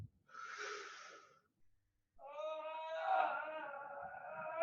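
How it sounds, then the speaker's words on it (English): A person doing a guided stretching exercise lets out a breathy, drawn-out yawn, followed after a short pause by a longer voiced yawning sigh. "Please try to make the yawning sound as well"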